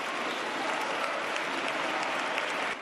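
A dense burst of applause from a large group of socialist members of parliament standing, steady and sustained for a few seconds before cutting off.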